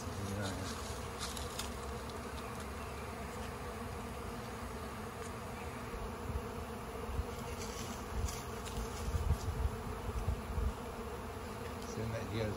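A swarm of bees buzzes around a box, a dense continuous drone that stays close and loud from start to finish, with a few knocks and some faint background noise.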